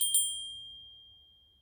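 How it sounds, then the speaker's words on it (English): An old brass bell struck once, giving a bright metallic ding followed by a second quick tap, with a clear ringing tone that slowly fades away on its own. "I have a lot of old brass bells."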